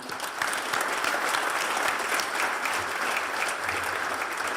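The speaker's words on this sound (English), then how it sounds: "if we can give a round of applause to JFTB" Audience applause at a State of the City civic event at a military sustainment command center, steady dense clapping filling the hall for several seconds with no one speaking over it.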